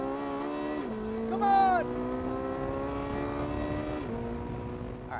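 Race car engine holding a steady high-pitched drone on a flying lap around a track, with two gear shifts dropping the pitch, while someone shouts briefly over it.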